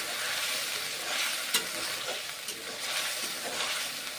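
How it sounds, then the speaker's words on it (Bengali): Ground ginger, cumin and chili paste fry in a pan for a mushroom curry, a continuous close hiss of sizzling oil with stirring scrapes and an occasional sharp tap of the spoon against the pan. "নেড়ে চেড়ে মশলা এখন কষে নিচ্ছি।"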